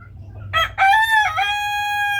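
A rooster crows once, loud and close, in a backyard garden, with a couple of short rough notes rising into a long drawn-out call, over faint low background rumble.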